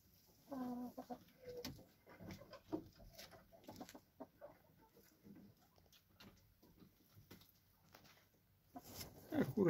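Laying hens cluck quietly and sporadically in a chicken coop in the evening, with soft scattered calls and a louder burst near the end, under a faint voice.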